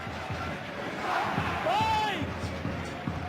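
Perpignan supporters chant 'USAP' in a large stadium crowd during a Heineken Cup rugby match against Munster, a loud rhythmic roar with whistles, and a commentator talks over it.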